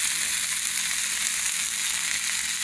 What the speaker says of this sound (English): Now, I'm going to add the pumpkin.